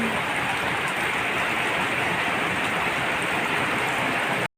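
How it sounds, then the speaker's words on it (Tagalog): Steady rain pours down in a constant, hissing wash, close and loud, with no pauses until it cuts off abruptly at the end. "Sarap ng ulan."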